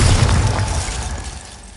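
A Bombarda spell explosion from Hogwarts Legacy bursts with a loud, heavy boom up close, then rumbles and slowly fades over nearly two seconds.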